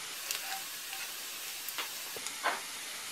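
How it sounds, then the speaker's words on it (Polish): Chopped onion, garlic and parsley frying together in a pan, a soft, steady sizzle and hiss with a few brief stirring scrapes, quiet and close, with no talk. "I teraz przez chwilę będę to wszystko podsmażać jakieś 3-4 minuty."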